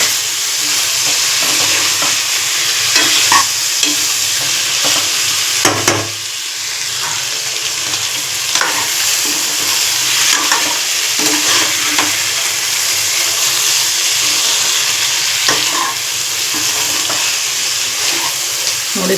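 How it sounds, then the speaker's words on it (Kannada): A pot of Karnataka bassaru sambar bubbles and simmers on the stove, giving a continuous soft sizzling hiss with occasional small pops and stirring knocks. "ನೋಡಿ ಫ್ರೆಂಡ್ಸ್, ಇದು ಕುದೀತಾ ಇದೆ"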